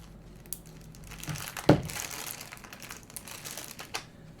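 Scattered, fairly quiet keystrokes on an acrylic KBDFANS Tofu60 keyboard fitted with Box Jade switches, with a few isolated clicks and one sharper, louder tap near the middle.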